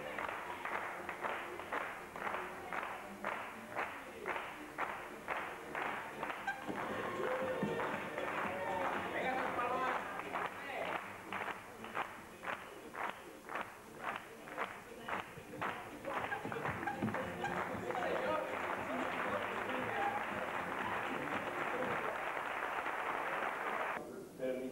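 Audience applause at a 1998 Sony event in Andorra, a dense rhythmic clapping that swells and holds throughout, fairly close and loud, with voices mixed in.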